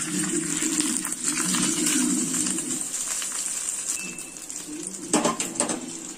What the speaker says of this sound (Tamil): இப்போ இந்த தாளிப்பை நம்ம சட்னியில் ஆட் பண்ணிடலாம்.